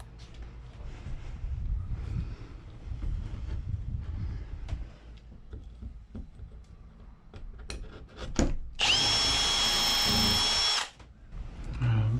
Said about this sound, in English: I'm just gonna have to hold it while I drill.